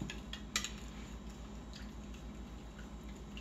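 Gel being stirred in a bowl, quiet wet squishing with soft clinks of a utensil against the side, close and steady without talk.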